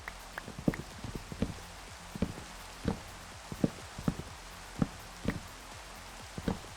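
Minecraft rain falls as scattered patters and taps over a soft, steady wash of noise, with a fairly even pattern of sharper drop hits throughout, fairly quiet and with no talking.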